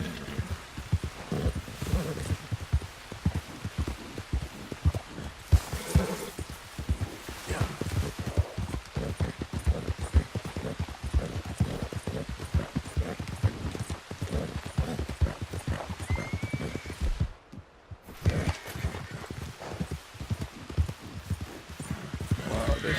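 Rapid hoofbeats of a horse in Red Dead Redemption 2 pound in a fast galloping rhythm, loud and close, continuing almost nonstop apart from a brief pause.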